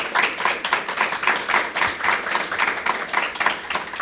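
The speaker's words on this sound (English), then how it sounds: "Eliza Agee, ladies and gentlemen, please, let's have some applause." Audience applause for a performer at a live nonprofit fundraising show, steady dense clapping from a crowd filling the whole stretch at even loudness.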